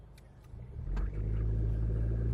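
Off-road vehicle in four-wheel drive on loose sand, running new Eibach suspension and KO3 tires; its engine rumble builds and swells, then holds as a steady, loud low drone, close by, with no talking.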